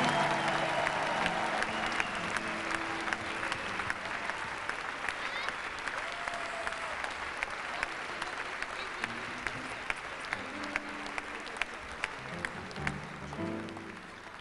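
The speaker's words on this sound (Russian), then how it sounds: "Давайте будем аплодировать и встречать." Dense, sustained applause from a church congregation welcoming performers to the stage, filling the hall steadily and loudly from start to finish with a slight swell near the end.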